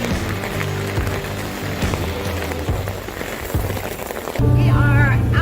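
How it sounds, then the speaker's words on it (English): Hail falls at sea in a dense, continuous patter and rattle on surfaces, loud and close, with a heavier steady roar in the last second. "It's hail!"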